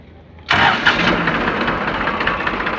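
A 2020 Holland 3037 39 hp tractor with power steering cranks on battery self-start after a brief quiet moment, catching quickly and settling into a loud, close, steady idle.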